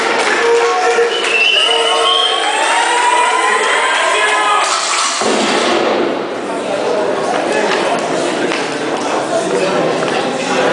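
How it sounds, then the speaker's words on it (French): An audience at a student gathering in Oujda applauds and cheers after a speaker is introduced, a broad wash of clapping and crowd noise with voices mixed in throughout. "Applaudissements à lui."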